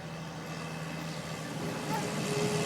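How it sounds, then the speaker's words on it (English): A truck passes outdoors on a warm day, a broad low rumble that grows slightly louder toward the end, steady and moderately distant, with faint voices nearby. "I don't like that truck."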